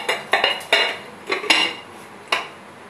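A lid goes onto a clay pot of Bengali misti doi with several sharp ceramic clinks and taps, close and distinct, in a quiet room.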